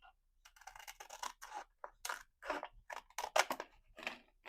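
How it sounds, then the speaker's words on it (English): Scissors snip through a thin sheet of wood veneer, about 1/32 inch thick, in a workshop: a quiet series of close, crisp, crunchy cuts in an uneven rhythm, with no talk. "this should be thin enough to cut with scissors"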